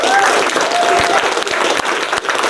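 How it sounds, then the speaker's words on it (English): Studio audience at a late-night talk show applauds steadily, a loud, continuous wash of clapping with occasional sharper claps and faint cheering. "y'all clap for it"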